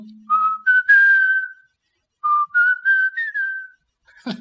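A person whistles a short, cheerful melody in two phrases with a brief pause between, clear and close, with no talking.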